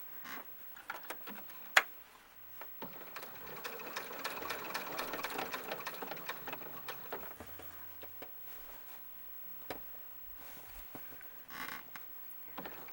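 A sewing machine stitching fabric for a doll dress runs in a steady, rapid whir that builds in the middle and then eases off, with a few sharp clicks and handling knocks, close by and with no speech.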